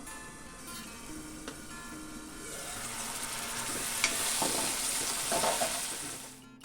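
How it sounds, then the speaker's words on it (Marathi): Chopped onions with a pinch of salt cooking under a lid for chicken sukka, a continuous hiss of sizzling that swells gradually louder, with faint scraping and no talking. "एक 2 मिनिटं झाकण ठेवून आपण कांदा कोंबवून घेऊया"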